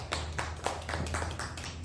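Teachers at a school gathering applauding colleagues, a short burst of scattered hand claps with a low hum underneath, moderately close and without talk.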